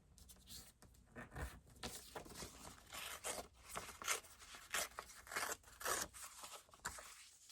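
Paper or craft material being torn by hand in short, crisp rips and rustles, close and fairly quiet, in an irregular rhythm with no talking.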